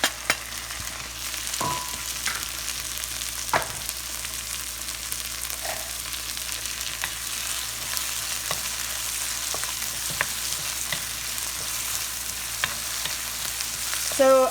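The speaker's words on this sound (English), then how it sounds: "I'm just gonna saute my onions and my tomatoes until they're very, very soft" Onions and tomatoes sautéing in hot avocado oil, a steady close sizzle broken by occasional stirring scrapes and clinks, with no voices.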